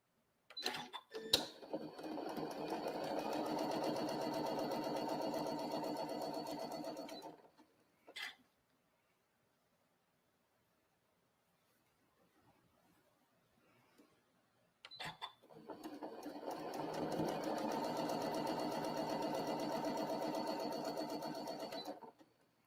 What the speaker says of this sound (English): I'm going to just sew right on that line, both one after the next